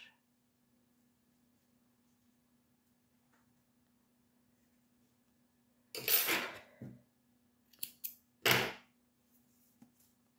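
Scissors snipping crochet yarn while finishing a small crocheted flower: two or three short, crisp cuts close by in an otherwise near-silent room.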